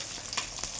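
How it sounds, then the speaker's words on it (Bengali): Bata fish fries in a pan with a brief, steady sizzle and a couple of small pops and crackles, heard alone at close range. "মাছটা ভাজা হচ্ছে আর আমি মশলাটা বেটে নিচ্ছি।"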